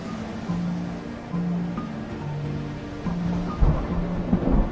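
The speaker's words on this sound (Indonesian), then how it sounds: "hujan turun dengan lebatnya. Terlihat sambaran petir di berbagai penjuru" Low rumbling thunder rolls under a steady wash of rain, with deeper booms building toward the end.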